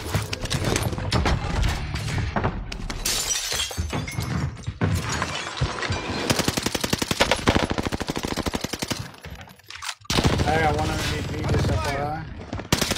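Dense rapid automatic gunfire from the video game Call of Duty Warzone, loud bursts of shots and sharp cracks nearly filling the stretch, with a short pause before firing resumes, and a voice talking over it.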